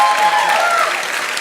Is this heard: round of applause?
yes